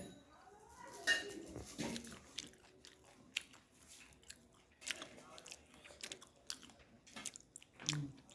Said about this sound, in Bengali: এতক্ষণ ধরে আমরা খেয়েছি এখন বাবা খাবে